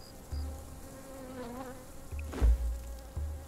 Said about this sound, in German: Diese Mücke macht mich fertig.